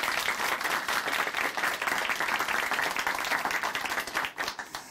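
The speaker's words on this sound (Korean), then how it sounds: "다시 한번 큰 박수 보내드리겠습니다." A studio audience at a Christian testimony program gives sustained, even applause, a dense crackle of many hands clapping together that tapers off slightly at the end.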